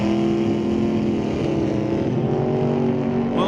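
A 1954 Studebaker at a drag strip, its engine a loud, sustained roar close by, holding a steady droning pitch throughout with no voices.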